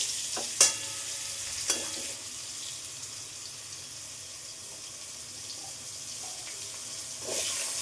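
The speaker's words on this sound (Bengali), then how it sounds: "কালো জিরাটা যখন একটু হয়ে আসবে তখনই কিন্তু আলুটা দিয়ে দিতে হবে" Potato pieces frying in oil with nigella seeds for a Bengali bhola fish curry, a steady low sizzle with a few sharp clinks of a spoon against the pan and a brief louder rush near the end.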